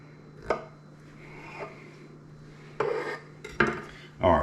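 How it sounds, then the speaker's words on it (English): A knife cuts seeded loquats into slices on a board, giving a few scattered knocks and scrapes, close and moderately quiet, with pauses between cuts. "once you get the loquat seeded, I just cut them into slices like this"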